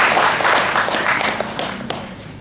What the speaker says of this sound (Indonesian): Tepuk tangan buat orang Bali itu.